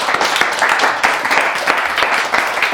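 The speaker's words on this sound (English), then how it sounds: "give this man a round of applause" A comedy roast crowd gives loud, sustained applause, with dense clapping throughout and a few cheers mixed in.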